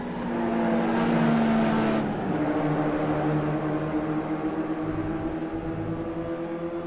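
Mazda MX-5 race car engine in the iRacing sim, a steady loud drone with a sustained tone that dips slightly as it backs off entering a corner, then holds on.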